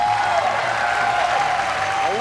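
Studio audience at a Thai code-breaking game show cheering and applauding, a dense, loud, continuous wash of clapping with a voice speaking over it.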